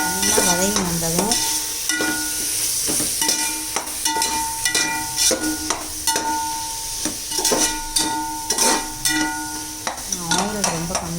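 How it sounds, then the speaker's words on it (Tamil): Vegetables sauté in sesame oil in a pan while a spoon repeatedly scrapes and stirs, producing irregular clanks over a steady crackle; background music plays. "நல்லா வதக்கணும். நல்லா வதங்கி வந்ததும்"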